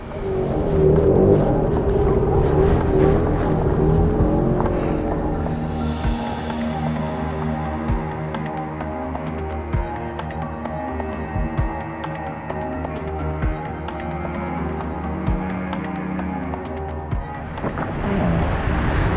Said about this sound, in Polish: Przypłynęła po nas nasza łódź.